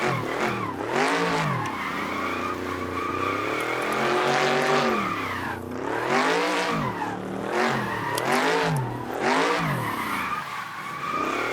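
A car drifting along a mountain road in Assetto Corsa, played in VR on a Meta Quest 3, its engine revving hard and dropping repeatedly as tires squeal through successive slides, loud and close throughout.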